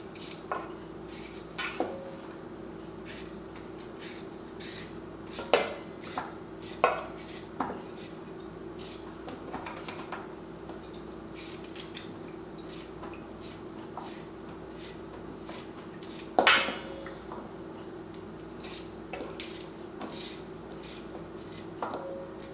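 Rinsed vegetables for Jamaican red peas soup being cut into smaller pieces, with scattered sharp knife taps and clinks against a board or dish at an irregular pace, close by with a faint steady hum underneath.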